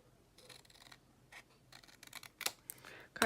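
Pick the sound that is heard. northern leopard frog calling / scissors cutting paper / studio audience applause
scissors cutting paper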